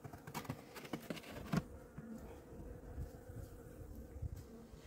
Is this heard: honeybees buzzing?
yes